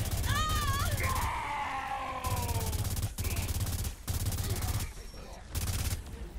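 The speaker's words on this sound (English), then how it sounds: "I love these electric bullets." Bursts of rapid automatic gunfire from electric bullets in the video game Saints Row 4, several loud stretches broken by short pauses, with a shrill screaming cry near the start.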